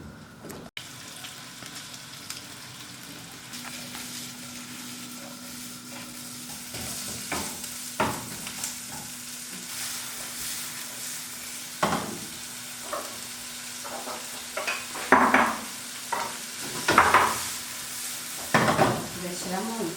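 Sausages fry in plenty of oil for a sweet spaghetti dish, giving a quiet ongoing sizzle broken by several louder clanks and scrapes of utensils against the pan.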